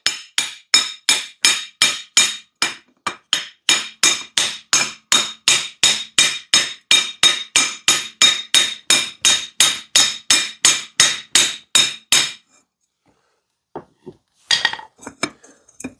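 Metal clanks ring out as a jack handle tube is hammered over a motorcycle frame tube on a Honda NTV650 cafe racer build: about thirty sharp, evenly spaced blows in a steady rhythm, then a pause and a few scattered final hits, no talking.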